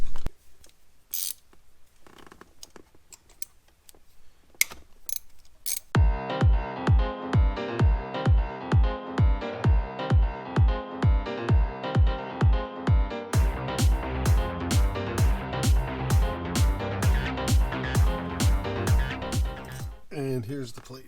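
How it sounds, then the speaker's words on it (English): A hand ratchet with a 10 mm socket backs bolts out of a shifter plate on a Saturn Sky, first a few scattered clicks, then long runs of rapid, evenly spaced, loud close-up clicking. "next up is to remove these 4 bolts that are in there, and I believe it's a 10 millimeter"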